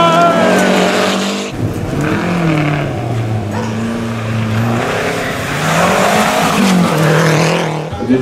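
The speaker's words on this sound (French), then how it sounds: "Giovanni et Magali Germain, vous êtes dans le top 10, 8e avec la 5 GT Turbo" A Renault 5 GT Turbo rally car races along a stage at the Rallye du Var historic event, its engine loud and close, revving up and down through gear changes as the tyres squeal.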